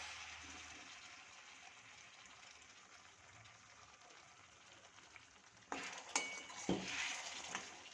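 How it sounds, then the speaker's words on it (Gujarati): After a quiet sizzling stretch, hot water suddenly gushes and splashes into a pot of spiced ivy gourd (tindora) curry, with a few clinks of metal as it pours. "હવે આપણે આમાં થોડું ગરમ પાણી એડ કરીશું"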